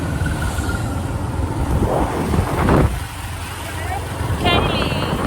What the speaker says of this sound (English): Back of moped in Sri Lanka.